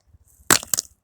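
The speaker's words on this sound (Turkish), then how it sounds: "Telefonum düştü." A mobile phone falls and strikes the ground with a loud close crack, followed by a second smaller clattering bounce, in an otherwise quiet setting.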